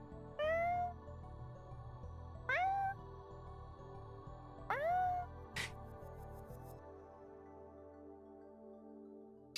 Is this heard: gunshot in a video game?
no